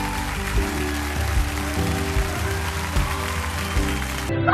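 A school crowd applauds and cheers to welcome back a boxing world champion, a steady, dense roar of clapping and voices with thumping beats throughout.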